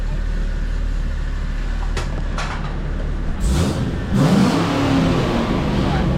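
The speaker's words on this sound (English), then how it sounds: "give it a little rev and then jump out" A car engine fitted with a full twin 3-inch exhaust idles with a deep, rough rumble, then revs briefly and gets louder toward the end, close by.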